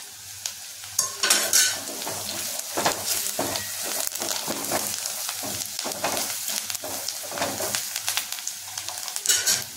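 Spices and asafoetida fry in hot oil in a pan while being stirred, a close, constant crackling sizzle with repeated scraping stir strokes throughout, no talking.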